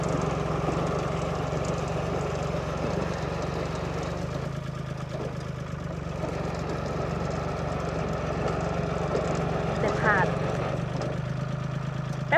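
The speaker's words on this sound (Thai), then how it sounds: "รถไถใหญ่ติดลม รถไถใหญ่ติดลม" A large farm tractor engine runs steadily in a rice field being prepared for broadcast sowing. It gives a continuous, even mid-to-low drone for the whole stretch, with voices occasionally audible.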